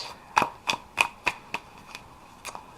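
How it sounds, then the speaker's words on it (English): A deck of tarot cards is shuffled in a series of about eight crisp riffling bursts at a steady pace, close and clear with no talking. "I do a lot of shuffling in between as well"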